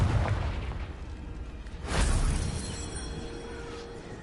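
In Hogwarts Legacy, the Confringo fire spell explodes with a soft boom and a whooshing burst near the two-second mark, standing out from a dense, rumbling game soundscape that continues before and after.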